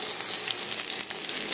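Onions for a string bean and ground beef dish frying in a pan, a dense, loud, continuous sizzle and crackle held close throughout with no talking.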